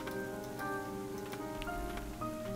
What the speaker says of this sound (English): this is the rain they were talking about in the cutscene that killed people